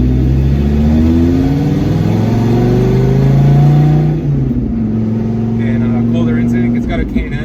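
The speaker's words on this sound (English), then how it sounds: "But this car has an exhaust on it." Dodge Viper with an aftermarket exhaust and K&N air filter accelerating, a loud, close engine drone rising steadily in pitch before easing off, with a person talking over it.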